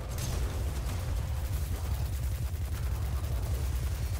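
Rapid, sustained auto rifle fire in the Destiny 2 video game, a dense continuous rattle of shots with low booming weight, loud and close, running for several seconds without talk.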